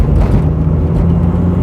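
A Proton Iswara Aeroback with a 1.5 litre Mitsubishi Magma engine, long off the road, drives along with a steady, loud engine drone and road rumble throughout, no voices over it.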